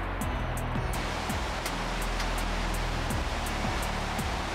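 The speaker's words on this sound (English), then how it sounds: "enjoy the sights and sounds of the Merced River plummeting over the brink of the" The Merced River plummets over the brink of Nevada Fall in Yosemite Valley, a steady, dense roar of falling water with no breaks, loud and close, with faint rhythmic ticking and low thumps underneath.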